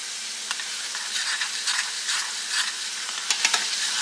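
A metal spoon stirs grits in a metal pot, producing soft scraping and bubbling hiss close by, with a few light clinks toward the end.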